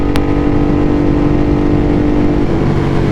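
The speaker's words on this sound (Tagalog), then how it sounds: "Rev bomb sa tunnel." A Ducati motorcycle revs hard inside a tunnel, a loud, sustained engine roar echoing densely with a steady throb throughout, no voices.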